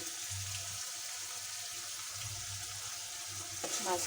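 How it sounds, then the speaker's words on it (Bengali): Masala paste of turmeric and chili powder frying in oil, a steady quiet hiss with low bubbling and a few faint scrapes near the end, no talk. "এইভাবে আমি কষাই নিই মশলাটা"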